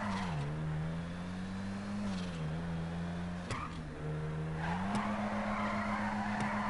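A car drifts in GTA Online, its engine droning at a steady pitch that dips and climbs while the tires squeal and skid continuously. A couple of sharp knocks and a rising screech come near the end.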